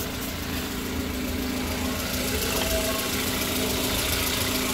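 A Mitsubishi Xpander engine idles after an oil change and engine flush, a loud, steady mechanical hum with a faint ticking vibration, heard close up from beneath the car.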